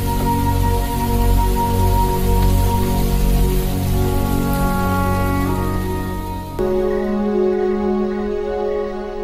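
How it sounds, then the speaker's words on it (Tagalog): Rain falling steadily on a large umbrella, a dense, loud, continuous patter with a steady hum underneath, no one talking. "Mami, ulan na gyud."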